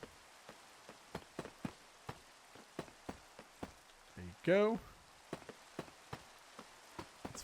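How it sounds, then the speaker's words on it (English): Rain pattering steadily in Minecraft, a soft constant hiss broken by regular faint clicks, with a short burst of another game sound partway through and a brief spoken remark. "especially because it's raining"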